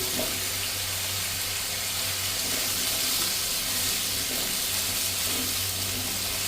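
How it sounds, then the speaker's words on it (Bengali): Chopped tomato tipped into a pan of frying mushrooms, giving a steady, close hiss of sizzling that runs unbroken throughout with no talking. "যে টমেটো কেটে রেখেছিলাম টমেটোটাও দিয়ে দিচ্ছি"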